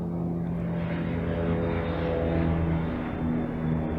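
Steady roar of an airplane passing overhead, a broad continuous engine drone with a faint hum, holding fairly constant and slightly swelling midway, with no talk.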